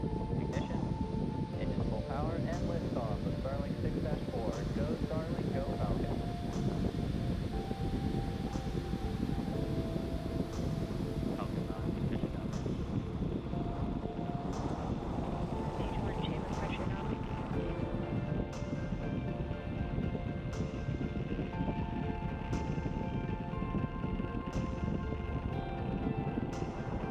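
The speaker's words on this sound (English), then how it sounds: "Falcon 9 has successfully lifted off from Space Launch Complex 40 from Cape Canaveral, Florida" A SpaceX Falcon 9 lifting off from Space Launch Complex 40 at Cape Canaveral, Florida, heard from afar as a faint, steady low rumble mixed with wind and voices.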